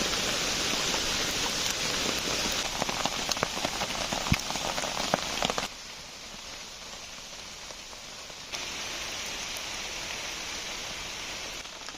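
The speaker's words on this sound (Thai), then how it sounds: "แล้วก็เสียงน้ำด้วยนะคะตรงนี้" A stream beside a riverside campsite rushes in a continuous hiss of flowing water, close and fairly loud. It drops to a softer wash for a few seconds before swelling again, with no voices.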